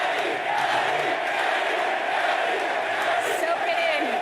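A large live crowd roars and cheers in an esports arena during a League of Legends LCS Spring Split lower bracket final, a dense, steady wall of voices with shouts rising above it.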